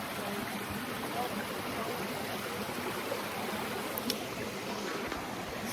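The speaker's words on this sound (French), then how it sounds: "Puis il y a des super de belles chutes." A waterfall and a clear stream flow through a wooded corridor, making a steady, full rush of water that continues without letup for the whole stretch, close and fairly loud, with no talking heard.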